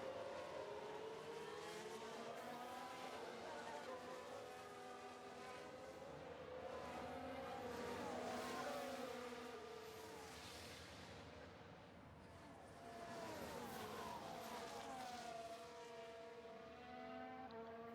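Race car engines at full throttle in F1 Manager 2022, several high revving tones rising and falling as cars pass, fairly faint and continuous with no talk.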